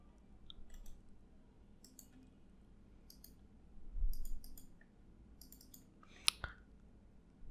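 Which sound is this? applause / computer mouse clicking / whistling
computer mouse clicking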